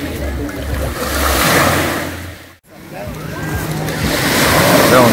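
Waves and surf wash in at Lazurevy Bereg beach in Gelendzhik on an evening by the sea, two broad swells of roaring water with a brief hush between them, and wind buffeting the microphone.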